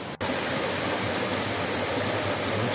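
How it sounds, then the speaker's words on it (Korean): A waterfall pours into a valley stream at Myojeoksa near Seoul, a steady, close, dense rush of water with no voices. "지금 제 폭포 아래 자리 잡았어요"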